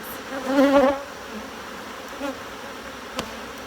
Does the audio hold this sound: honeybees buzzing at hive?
yes